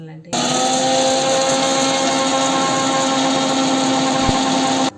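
A mixer grinder grinding fenugreek and mustard seeds into powder whirs on abruptly, running at a steady high-pitched roar for several seconds before cutting off.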